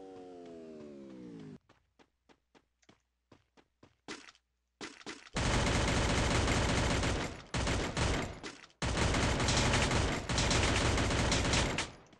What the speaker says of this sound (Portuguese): Os caras tá trocando tiro aqui na beirada.